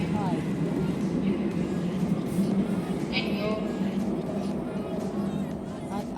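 Steady low rumble of a London Underground train ride near Finchley Road, constant and fairly loud throughout, with faint chatter and brief higher squeals from the carriage.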